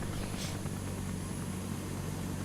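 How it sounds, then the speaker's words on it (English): Heavy helicopter lifting off in the Rising Storm 2 Vietnam video game, a dense, constant rotor and engine roar with low throbbing, loud and close, without talk. "It's obviously a much heavier helicopter than the other two"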